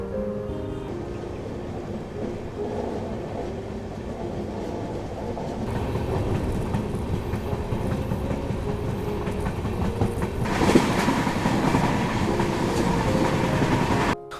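Khajuraho Express passenger train running on rails, arriving at Harpalpur railway station: a steady, loud rolling rumble with wheel clatter that swells and brightens partway through, with no voices.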